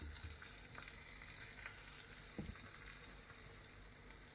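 Fennel roasting in butter in a dry-heated pan gives a steady, close sizzle and crackle with a few sharper pops and stirs, and no voices over it.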